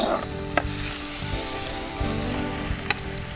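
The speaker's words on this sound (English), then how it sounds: "And then again we will give a stir, good stir." Spices with turmeric (haldi) frying in a pan hiss with a steady loud sizzle while a spoon stirs them, adding a few sharp scraping clicks against the pan up close.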